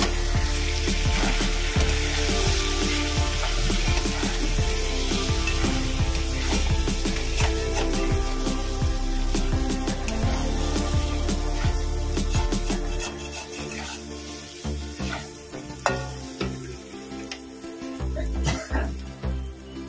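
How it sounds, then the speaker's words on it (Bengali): Ground cumin, chili and turmeric powder sauté in a pan for a dhoka recipe, giving a loud, continuous close-up sizzle with stirring scrapes that thins out toward the end, with no talking. "জিরের গুঁড়ো, লঙ্কার গুঁড়ো, হলুদ। এটাকে একটু কষিয়ে নেব।"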